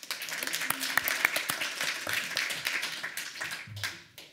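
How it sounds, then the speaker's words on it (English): An audience at a design conference gives scattered applause to presenters, fairly soft and thin claps with a few sharper individual hand claps, fading toward the end. "Warm applause"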